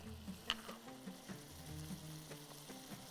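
Tomatoes with black pepper and salt frying in a pan for a Bahraini dish, a soft steady sizzle with a few light clicks and stirring knocks, close and quiet.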